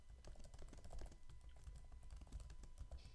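Quiet, quick keystrokes on a computer keyboard tap out a short typed question in a steady, close-up burst of clicks.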